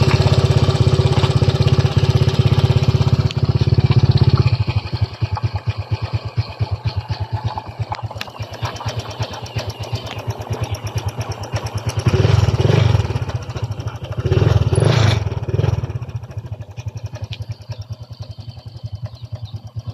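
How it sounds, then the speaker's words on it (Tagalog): A Honda Click 125 scooter engine runs after its crankshaft bearing was replaced, with a steady close idle and a dense mechanical chatter, plus a few brief revs that swell louder before settling back. "ito naman tunog ng kanyang motor pagkatapos ating mapalitan ng bearing ang kanyang crankshaft"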